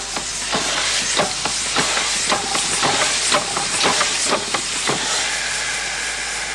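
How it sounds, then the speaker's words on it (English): Steam winch opening a eucalyptus oil distillation pit on a farm, giving a steady loud hiss of steam with repeated sharp clanking and thumping bursts at an irregular rhythm, and no talking. "the steam winch is used to open the pit and remove the waste material"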